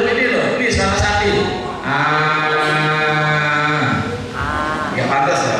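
A person imitates a cow with long, drawn-out nasal lowing calls, two sustained tones separated by a short breath, loud and close, the voice sounding somewhat bleat-like.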